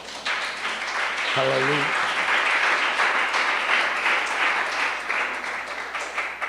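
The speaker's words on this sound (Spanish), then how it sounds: "Dele un fuerte aplauso al Señor." A church congregation breaks into loud sustained applause, a dense wash of clapping from many hands that lasts throughout, with a voice calling out briefly over it near the start.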